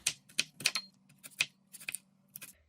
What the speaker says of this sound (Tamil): முதல்ல நாங்கள் பச்சை மிளகாயை வெட்டி எடுப்போம். சின்ன சின்ன துண்டுகளாக வெட்டி எடுத்து வச்சுப்போம்